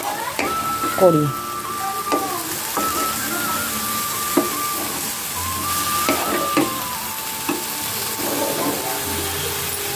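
Onion and garlic sizzle loudly in a wok for thor chorchori with potato, with metallic scraping and clanking of the spatula as the pan is stirred; a brief spoken word sits over the frying.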